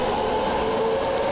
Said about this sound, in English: I'm on the subway.